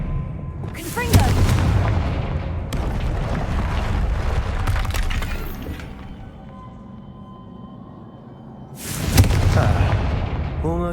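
Booming spell blasts from the Confringo curse in Hogwarts Legacy: two heavy explosions, one early and one near the end, with rumbling combat noise between them and a voice speaking over the fight.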